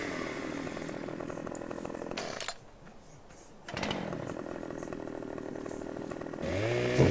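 A chainsaw in a farming video game revs and cuts steadily, its buzzing engine dropping briefly to a quieter idle before roaring back, with a voice joining near the end.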